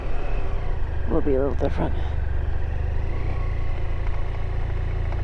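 A motorcycle ridden on a cool, windy road near West Glacier, Montana, gives a steady low engine rumble mixed with wind noise throughout, and someone talks briefly over it early on.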